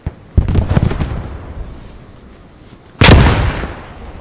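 Grenade blasts in Post Scriptum land close by at a rally point: a sharp burst with rattling debris, a lull, then a second loud, near explosion that rings out briefly.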